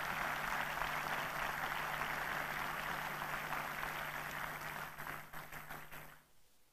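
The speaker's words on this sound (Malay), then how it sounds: "Berikan satu tepukan pada diri anda sendiri." A lecture audience claps together in a sustained wash of applause that holds steady, then thins and fades out near the end.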